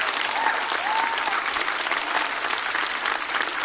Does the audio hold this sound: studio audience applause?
yes